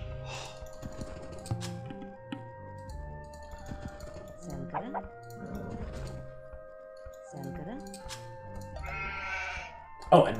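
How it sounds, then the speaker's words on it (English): Sheep in a medieval strategy video game bleat in short, repeated calls over a droning game soundtrack, with someone talking throughout and occasional keyboard and mouse clicks. "We have tons of sheep now."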